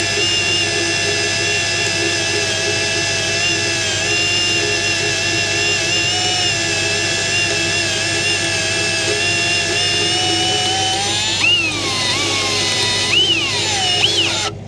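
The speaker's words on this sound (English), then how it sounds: "See how we're going anti-clockwise here and it's drilling." A left-handed drill bit turns anti-clockwise, drilling out a stuck bolt on a welding job site, a steady loud whining drone with strained pitch shifts near the end.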